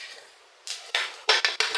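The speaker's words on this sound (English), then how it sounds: "After stirring it, you cover your pot, guys." A metal lid is set onto a cooking pot of popcorn, producing several quick, close clanks and scrapes in a short burst.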